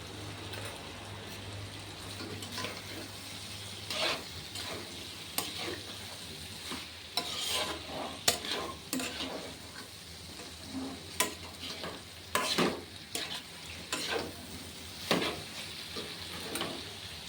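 A fried spice mix is stirred into a soybean curry in a pan, with a soft constant sizzle under repeated irregular scraping and knocking of a spoon, close by, no voices.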